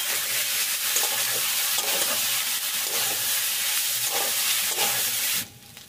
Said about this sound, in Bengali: এবার সব কিছু ভালো করে মিশিয়ে ভাতটাকে একটু ভাজা ভাজা করে নেব।